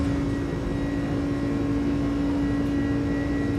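iniBuilds A300 airliner engines at takeoff thrust in a flight simulator, a loud continuous roar with a steady droning hum, unbroken throughout.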